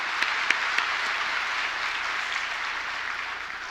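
Congregation in a church applauding together at a three-generation special early-morning prayer service, a steady wash of many hands clapping at even loudness, with a few sharper claps standing out near the start.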